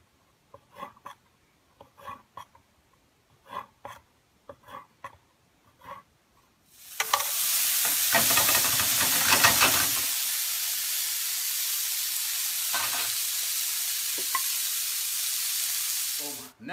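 Seafood drops into a hot pan and a loud, steady frying sizzle starts abruptly and continues to the end, preceded by several soft kitchen taps and clicks in near silence.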